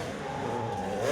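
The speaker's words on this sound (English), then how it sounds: "here are a couple of 2-strokes coming by" A couple of 250 two-stroke dirt bikes ride past at a GNCC cross-country race at Unadilla, their engines whining at moderate distance and growing louder briefly as they come by.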